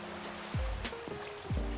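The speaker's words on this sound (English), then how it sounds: "Rain." Steady rainfall in the Minecraft video game, a continuous hiss of falling water with soft low thuds recurring about every half second, moderately loud and with no talk over it.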